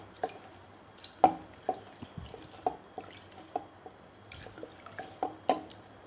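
Beaten rice flakes (aval) stirred by hand into drinking water for a no-stove dish make soft wet squishes and drips, a close, quiet, irregular run of small splashy clicks with no talking.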